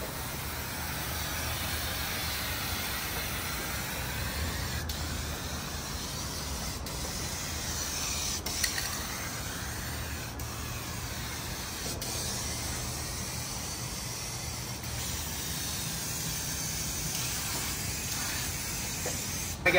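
A turbo spray can paints a car with a steady, continuous hiss at close range, broken by a few short pauses and restarts between passes, with no talk over it.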